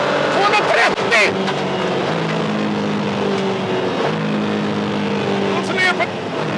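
A Porsche 718 Cayman GT4 driven hard on a race track, engine droning and shifting pitch through gears and braking, loud and close inside the car, with excited talk over it.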